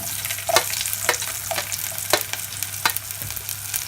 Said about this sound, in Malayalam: പിന്നെ നമുക്ക് സവാള ഇട്ട് കൊടുക്കാം